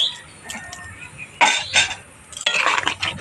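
A spoon scrapes and clinks against a pan while a rasmalai mixture is stirred after sugar goes in, short irregular bursts of scraping close by, separated by brief quiet pauses.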